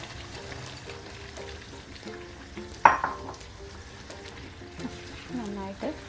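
Soya chunks are stirred and fried in masala in a pan, giving a soft steady sizzle, with one sharp scrape of the spoon partway through and faint voices in the background.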